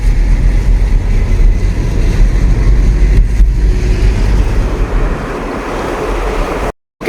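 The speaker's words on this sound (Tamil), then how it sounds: "இப்போ நம்ம இருக்கிற இடம் இந்த கூழாங்கல் அருவி" Koozhangal waterfall in Valparai gives a loud, continuous rushing roar of falling water up close, with some wind buffeting the microphone, before it cuts off abruptly near the end.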